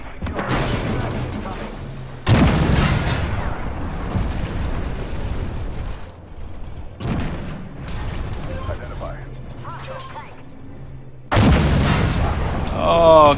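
Gunfire and artillery rounds in a video game boom and crack repeatedly, several loud impacts spaced a few seconds apart with rumbling tails, and a voice talks faintly in places between them.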